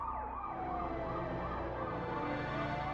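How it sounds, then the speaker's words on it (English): An ambulance siren wails continuously in a rising and falling pattern along a roadside at night, steady and fairly distant, with low traffic rumble beneath and no talking. "His wailing drowns out the ambulance sirens."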